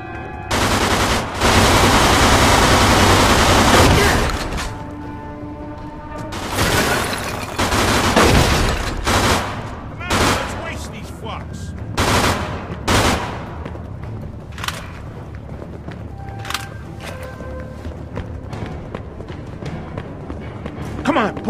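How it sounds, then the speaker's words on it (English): Heavy bursts of gunfire from a crowd of enemy gangsters in the game Mafia II, loud dense volleys at first, then scattered cracking shots and impacts, with shouting voices mixed in. "They're shooting at me, for Christ's sakes!"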